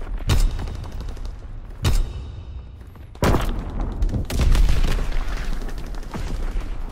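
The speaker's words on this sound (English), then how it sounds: "Fighter aircraft ready. Call for a strafing run." Loud percussive blasts from a fighter aircraft strafing run in a Call of Duty WWII match, several heavy bursts of gunfire and booms separated by short gaps, followed by sustained rumbling fire.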